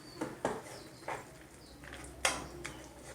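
A dish is roasted in ghee in a pot and stirred, making faint scattered metallic scrapes and clinks of a utensil against the pot over a low background sizzle.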